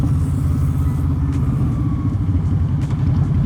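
A Honda VT750 Shadow motorcycle with a very loud aftermarket exhaust rumbles continuously up close, a deep steady engine drone with wind buffeting and no talking.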